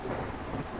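Heavy rain and a rumble of thunder outside an old house in a 1932 horror film form a dense, continuous wash of noise throughout the brief moment.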